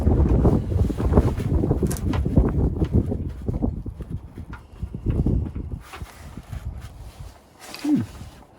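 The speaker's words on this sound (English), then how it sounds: "And it's windy, of course" Gusty wind blows outdoors while someone works on the rear differential of a 1936 Chevy coupe, a low blustery rumble buffeting the microphone, with a few faint clanks and a short squeak near the end.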